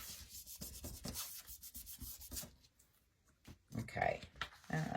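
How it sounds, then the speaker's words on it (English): Fingers rubbing a transfer onto a sign, giving rhythmic dry scratchy strokes close up, pausing briefly before resuming, with a voice talking quietly alongside. "And then I just rub it really good with my fingers."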